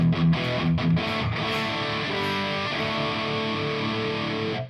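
A distorted electric guitar through a Quad Cortex amp simulator with a high cut plays a chord-based phrase with a darkened, muffled top end, loud and sustained throughout.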